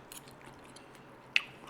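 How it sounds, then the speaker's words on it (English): A fork bites into well-cooked cauliflower in aloo gobi that still holds some crunch, giving a single short, faint crunch near the end amid quiet background. "Fork goes in, still got a bit of crunch in there."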